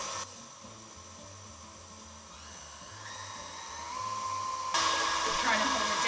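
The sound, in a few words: stand mixer mixing batter with vanilla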